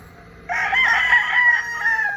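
A fighting cock at a three-hit cockfight derby in Cavite crows once, loud and close, in a single strained call lasting about two seconds, with no talking.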